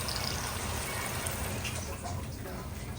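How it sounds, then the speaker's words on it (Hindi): Continuous rushing hiss of two glasses of warm water being poured into a karahi of frying venison, close and fairly loud, blending with the sizzling pan. "साथ में डाल रही हूँ 2 गिलास पानी।"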